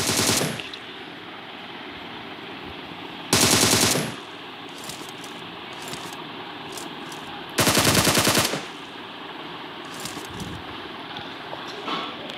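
Gun in a video game firing two long rapid bursts of automatic fire, loud and close, separated by a quieter droning background with faint clicks.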